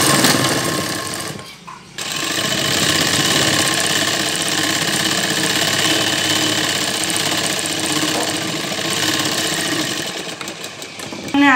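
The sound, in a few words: sewing machine stitching salwar fabric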